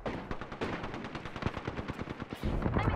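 Rapid automatic gunfire in a shooter video game, a dense, loud, close stream of shots rattling steadily for several seconds without pause, with no talking.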